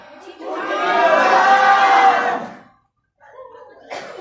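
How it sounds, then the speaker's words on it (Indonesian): A church congregation shouts loudly together for about two seconds, a swelling crowd roar that then cuts off, followed by a brief quieter murmur and another short burst. "So bagaimana kita bersorak yang nyaring?"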